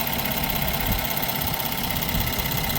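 A 2025 Ram 1500 truck engine idles with a steady hum, overlaid by a faint, fast, clicky ticking that runs continuously at close range without any voices.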